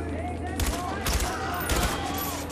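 Video-game gunshots in Far Cry 4 ring out in three loud reports spaced about half a second apart over steady background game ambience.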